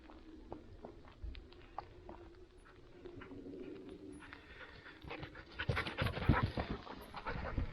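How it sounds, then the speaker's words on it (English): Sheepdogs panting close by on a snowy hillside walk, rapid rhythmic breaths that grow louder and nearer toward the end, with birds cooing in the background. "Dogs coming to check that I'm coming as well"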